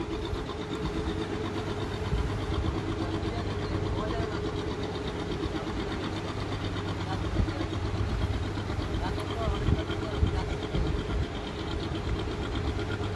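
Passenger launch MV Rajarhat B berthing slowly at a river ghat at Kaliganj, its engine a steady low droning rumble with a faint knock, continuous and fairly loud, with voices murmuring in the background.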